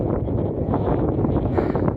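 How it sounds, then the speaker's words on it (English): Strong wind buffets a microphone on the hilltop of Windy Gyle, beside gorse, in a loud, constant roar for a couple of seconds, with no talk. "I suppose you can hear why they call it Windy Gyle. It's so windy up here."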